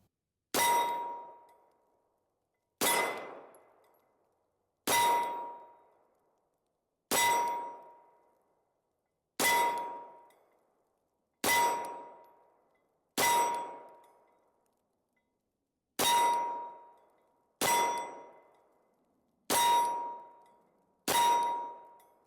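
Steel targets struck by a Derya MK9 pistol ring out with eleven sharp clangs, spaced about two seconds apart, each with a bright metallic ring that fades out before the next hit.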